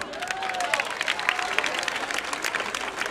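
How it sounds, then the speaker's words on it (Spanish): A crowd at a football club festival in Sagunto applauds Javi with continuous, dense clapping and a background murmur of voices throughout. "yo creo que se merece un fuerte aplaudiment"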